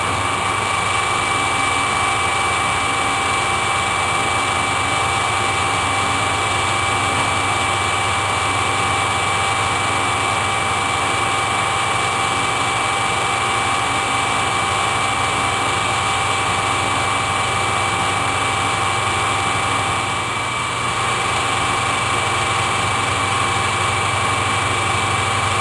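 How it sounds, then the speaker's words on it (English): A wood lathe runs steadily in a workshop, its motor giving a constant, loud hum with a fixed whine, and nobody speaks over it. "I'm working on building a vent for this lathe because it puts out so much smoke in this situation"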